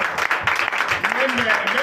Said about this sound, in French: Donnez l'acclamation au Seigneur.